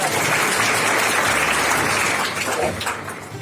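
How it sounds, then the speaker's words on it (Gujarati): Dense applause from a gathering of senior citizens on a temple visit fills the space, loud and continuous before tapering slightly at the end. "તો 3 તાળીઓનું માન પણ બેનને આપીએ."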